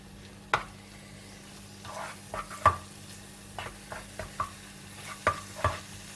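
Small chicken pieces fry in melted butter in a pan, with a faint steady sizzle broken by sporadic clinks and scrapes of stirring, close and fairly quiet.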